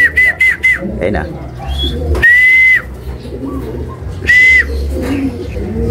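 A black check hen racing pigeon arrives home to the loft amid short repeated whistles and a few clear bird calls, with people talking close by.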